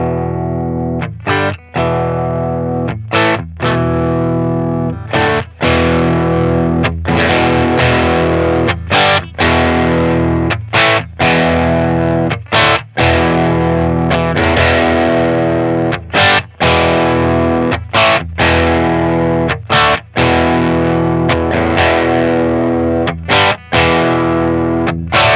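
Overdriven electric guitar through a Boss Katana amp plays the riff, loud chords with short rhythmic gaps throughout, alone without talk.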